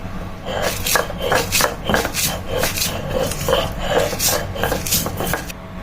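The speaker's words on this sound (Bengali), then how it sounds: "এখন এগুলো বেটে সুন্দর করে ভর্তা বানাবো" Roasted chilies being ground into a paste on a grinding stone for a Bangladeshi mash, heard as steady repeated rough scraping and knocking strokes in an even rhythm, close and fairly loud throughout.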